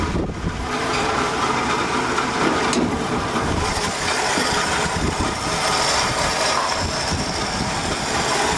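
A Chevrolet 194 inline-six idles in a 1965 Chevelle wagon, a steady low engine rumble close by that runs evenly for several seconds with no talking.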